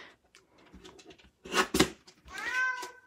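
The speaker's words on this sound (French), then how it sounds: "Pauvre chat. Fais pitié." A house cat meows close by, with a couple of short calls followed by a longer, rising drawn-out meow, plus faint rustling in a quiet room.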